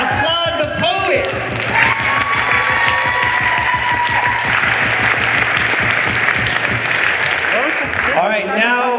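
Lively applause with whoops and cheers from an audience at a ninth-grade school poetry slam, sustained clapping over rhythmic background music, with voices shouting over it near the start and end.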